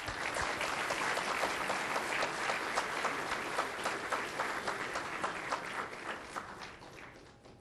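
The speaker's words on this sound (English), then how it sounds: "If we can go ahead and give them another round of applause." Sustained, dense audience applause at an Army-Baylor MHA/MBA opening and closing ceremony, steady and moderately loud throughout before tapering slightly at the end.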